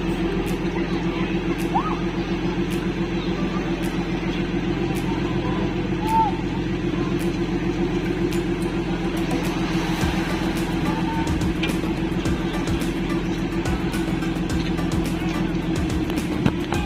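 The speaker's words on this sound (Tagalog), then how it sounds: "dandahan na pong inila ng truck yung aming bangka" A truck engine hauling a wooden Pacific-going outrigger boat up onto timber supports during repair: a steady, loud low engine rumble runs throughout, with faint voices and clatter underneath.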